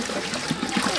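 Water trickles and pours steadily at close range while a baby is being washed, a continuous liquid splash and dribble without a break.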